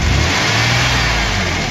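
Engine of a van, jump-started in the cold with cables attached, runs at high idle, a loud, steady, dense roar that holds level throughout with no voices.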